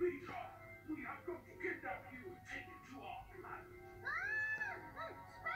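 A cat meows several times, with rising and falling cries near the end, while people talk quietly in the background.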